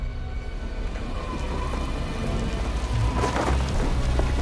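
A heavy movie thunderstorm roars steadily with dense pouring rain, and a deep rumble of thunder swells louder toward the end.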